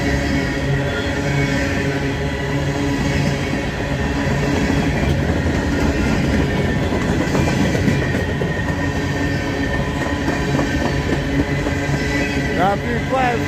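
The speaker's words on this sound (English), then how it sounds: "There's an empty coal train going back home to Pennsylvania." An empty coal train headed back to Pennsylvania rumbles past steadily and loudly, with continuous rolling wheel noise, some clatter and a faint squeal near the end.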